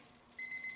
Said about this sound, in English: you can hear the timer has gone off